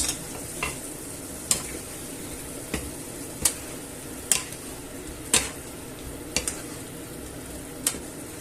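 Spanish sausages sizzle steadily in a frying pan while being stirred and moved about, with a close, continuous frying hiss broken by about a dozen sharp scraping and clacking stirs spread unevenly through the clip.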